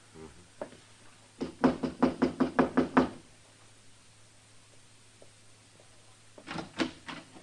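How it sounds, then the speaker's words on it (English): Knuckles rap on a door: a quick burst of about eight firm, evenly spaced knocks, then a pause and a second, softer cluster of knocks, close and clear over quiet room tone. "Go ahead, Temple. Knock."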